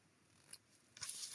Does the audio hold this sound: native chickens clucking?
no